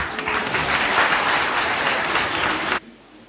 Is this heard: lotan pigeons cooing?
no